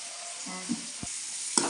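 Chopped onions sizzle in a hot pan with a soft, steady frying hiss, with a few brief stirring scrapes and clinks close by.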